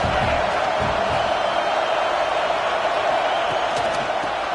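Broad, steady roar of a stadium crowd in the college football video game NCAA 26, a dense wash of noise filling the whole stretch with a few faint thumps underneath.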